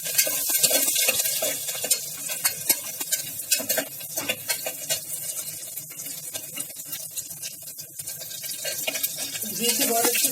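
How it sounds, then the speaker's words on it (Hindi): Garlic fries in homemade ghee in a pan for Rajasthani lal maans, giving a steady crackling sizzle with bursts of spattering and stirring clinks close by. "अब हम इसमें लहसुन डाल रहे हैं और लहसुन को हल्का सा पिंक होने तक भूनेंगे"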